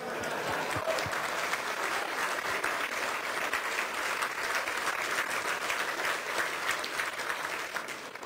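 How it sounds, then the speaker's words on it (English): A plenary session audience claps continuously for several seconds, dense and even, a room full of hands with no voice above it. "I think I should get more applause than that."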